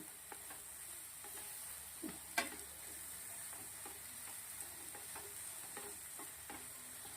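A spoon gently stirs Rajasthani muda methi sabzi in a pan over low heat. Soft, faint scrapes and light taps repeat over a quiet steady sizzle, with one brief louder clink near the start.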